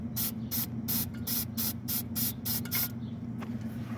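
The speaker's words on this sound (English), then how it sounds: "I'm gonna go ahead and spray it with CRC." CRC aerosol spray is sprayed onto a car starter's positive wire in about nine short, sharp hissing bursts at a steady rhythm, close to the mic over a low background hum.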